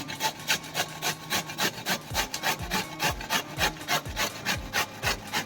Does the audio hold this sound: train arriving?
no